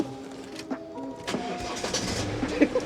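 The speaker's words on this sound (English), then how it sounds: "the next test drive is this 318D. It's running a Garrett GT 2860 RS turbo" A 318D car with a Garrett GT 2860 RS turbo and sequential gearbox, roughly 800 to 900 horsepower, its engine cranking and turning over nearby in short uneven bursts with a faint mechanical hum.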